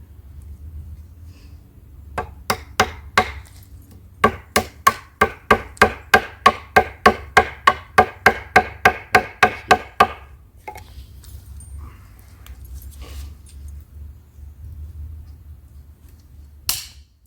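A guest knife chops repeatedly into wood during a blade test, starting with a few spaced strikes and settling into a steady run of about fifteen sharp, evenly timed chops before going quiet, with one final knock.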